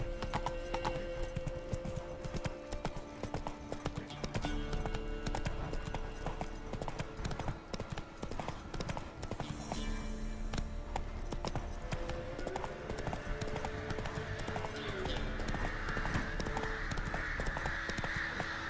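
Hooves of the horse Roach pound steadily at a gallop in The Witcher 3 video game, a continuous rapid clip-clop rhythm under a layered in-game soundscape that runs unbroken at an even level.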